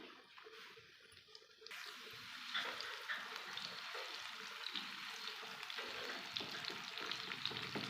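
Chopped onion hitting hot oil in a pan, a quiet start followed by a sudden steady sizzle that continues close and even, with light stirring ticks and no talk.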